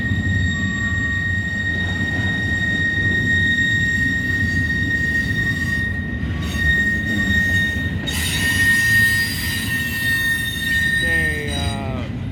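Freight train with international containers rolling past at Deshler, loud continuous wheel squeal ringing in sustained high tones over a rumbling, clattering base for the whole stretch, a nearby voice speaking briefly.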